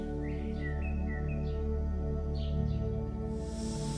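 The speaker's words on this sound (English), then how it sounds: "Even the occasional chirp of a bird seemed to slow to match Dude's unhurried pace." Small birds chirp in a garden with a few quick, high tweets scattered over a steady hum of background sound, moderately close and not loud.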